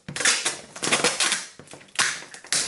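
Packing tape pulled and pressed down by hand on a table, loud and noisy: repeated ripping, crackling bursts with rattling thumps, close and alone.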